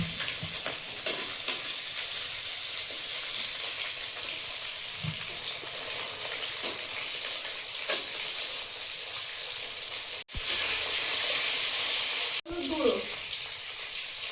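Bay leaf, five-spice seeds, chopped garlic, green chilli and potato fry in hot oil with a steady, bright sizzle, stirred now and then, and a voice speaks briefly.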